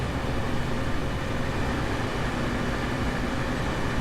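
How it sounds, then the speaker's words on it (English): Elevated passenger train in Train Sim World running through a city on an American freight and passenger route, a steady close rumble of wheels and rail noise filling the whole stretch without pause. "A cool elevated train going right through the heart of the city."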